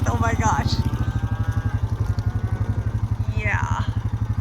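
A four-wheeler ATV engine runs steadily up close on a cattle farm, with a rapid rhythmic engine pulse throughout and a person talking over it.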